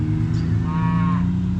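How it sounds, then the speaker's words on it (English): Cattle on a farm road give a single drawn-out moo of about half a second, fairly close, over a steady low engine-like rumble. "That's just the cattle"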